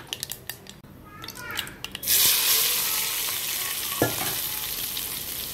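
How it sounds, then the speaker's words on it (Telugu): A tempering of cumin in oil is poured into a tomato and amaranth-leaf curry on the stove. Light clinks and a voice come first, then a sudden loud sizzle bursts out and fades into a steady hiss. "తాలింపు వేసాను"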